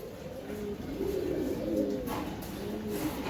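A pair of black pest pigeons coos softly and repeatedly at close range, low throaty calls rolling over a steady background hum with no voices.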